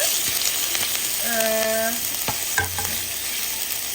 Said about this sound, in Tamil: இந்த எண்ணெயை கொதிக்க வச்சிருக்கு. அதுக்குள்ள முதல் கொஞ்சம் இஞ்சி பூண்டு பேஸ்ட்டை போட்டு